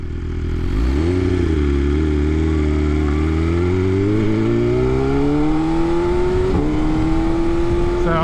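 A BMW S1000RR sport motorcycle engine revs up from idle and climbs steadily through the gears while riding curvy roads, with a loud, close whine rising in pitch over wind rush and a few light rattles.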